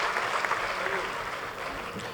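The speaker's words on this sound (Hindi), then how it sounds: "जोरदार तालियों से इस्तकबाल कीजिए प्रोफेसर" Applause at an Indore mushaira welcoming a professor poet, a broad continuous wash of many hands clapping from a seated audience, gradually easing off.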